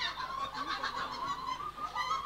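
A poultry flock of chickens gives off a busy mix of overlapping clucks and honk-like calls, steady and moderately distant, with no one talking.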